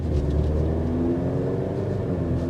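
A car engine hums and revs steadily from inside the cabin, a low continuous drone with a rising tone; no one speaks.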